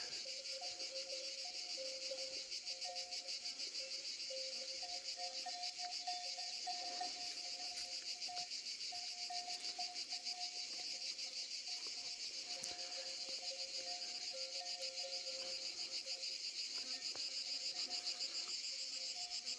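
Cicadas sing in a steady, dense, unbroken drone that fills the whole stretch, heard outdoors among olive groves where cattle graze; continuous shrill buzzing with no talk.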